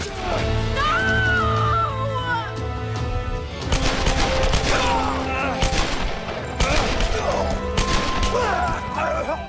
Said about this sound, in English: Matthias and the Solari arrive and open fire on the two.